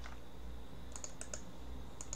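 Several quick, light clicks of computer keyboard keys pressed in a short burst to copy data, sounding close over a low steady background hum.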